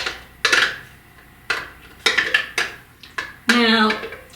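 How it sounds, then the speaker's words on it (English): A spoon scoops pumpkin oatmeal muffin batter out of a blender jar, giving a handful of sharp clinks and scrapes in an uneven rhythm, close and fairly loud with short pauses between strokes. "Let me get my spoon to scoop it out of there."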